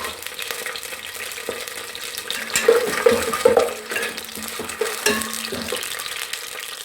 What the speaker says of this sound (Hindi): पैन में ऑयल डाल दिया, हम इसमें प्याज डाल के हल्का सा ब्राउन करेंगे